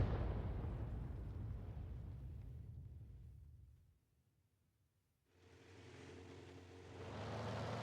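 A World of Tanks AMX 13 F3 AM self-propelled gun fires at a bush: a deep, rumbling boom that fades, a brief near-silence, then another heavy blast rolling into sustained low rumble.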